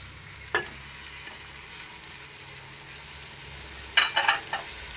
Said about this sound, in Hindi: अब मैं चिकन शामिल कर रहा हूँ, आधा किलो है ये देखें।